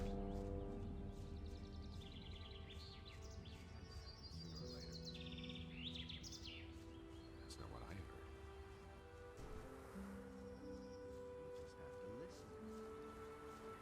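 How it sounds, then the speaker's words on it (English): Several birds chirp and trill in the trees of a Gothic 2 video game forest, short bright calls repeating over a steady ambient hiss, with a voice talking underneath throughout. "the birds chirping in the trees"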